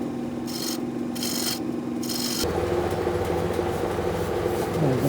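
Skew chisel scraping a small wood bowl spinning on a lathe, three bursts of rasping rub, then a steadier continuous scraping with lathe rumble, close and fairly quiet.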